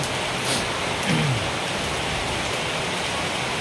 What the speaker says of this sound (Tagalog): hintayin po natin na medyo tila ang ulan